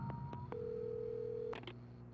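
Telephone keypad tones in the video game Alan Wake beep in a quick series, with one long held tone in the middle, against a low synthetic background hum.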